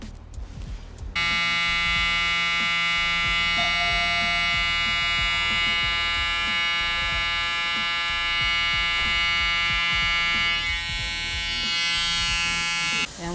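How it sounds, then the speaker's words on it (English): An electric hair trimmer switches on after a brief moment and buzzes steadily up close through a men's haircut, with small shifts as it moves over the hair. "I just kind of like to use my trimmer"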